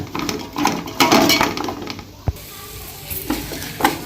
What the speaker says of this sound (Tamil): நல்லா கிண்டி விட்டுருங்க